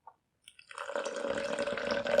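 Water poured into 50 grams of sugar to make a sugar water mix for a wasp trap, a faint drip at first, then a steady close trickle filling the container.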